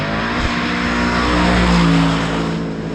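A 2025 Aston Martin Vantage V8 launches hard with wheelspin, its engine roaring loud and close in a steady, rising howl as the tyres scrabble for grip. No one speaks over it.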